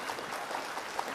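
Brief patter of audience applause at a mushaira poetry gathering, a scattering of hand claps from a crowd, fairly light and short.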